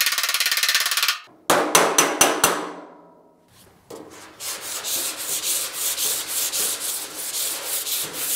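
A worker dresses a damaged steel fender on a Pontiac GTO restomod: a burst of grinding, a run of sharp metallic taps, then steady rhythmic sanding strokes rasping back and forth up close.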